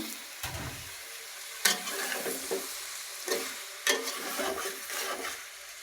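Ash gourd pieces go into a pan of frying country chicken bones and masala, then get stirred: bursts of crackling sizzle rise and fall with each scrape of the spoon, fairly close but moderately quiet.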